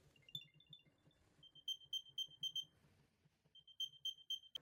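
An Apple AirTag 2 emits a series of high, chirping electronic beeps in short repeated bursts, fairly faint, with soft handling noise underneath.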